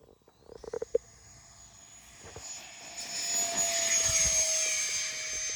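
A jet trainer aircraft taking off starts with a few soft clicks. A high turbine whine then sets in, and a broad rushing roar swells louder over several seconds.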